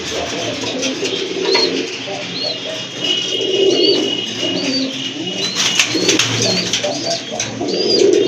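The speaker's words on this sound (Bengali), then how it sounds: "দেখেন আরেক জোড়া কবুতর, রাজগোল্লা কবুতর।" Rajgolla pigeons of Andalusian colour coo in repeated soft, throaty rolls, close by and fairly loud, with other pigeons calling and a little background chatter among the loft birds.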